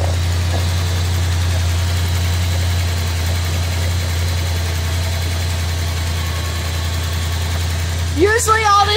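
A Ford F100's V8 engine idles steadily with a deep, even rumble throughout, close by; a short voice-like sound appears near the end.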